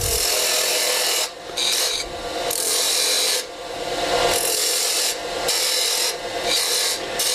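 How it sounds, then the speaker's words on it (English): Lathe turning tool cutting a cove into spinning wood, a continuous loud rasping scrape broken by a few short pauses as the tool lifts off. "we'll cut that cove where I want it"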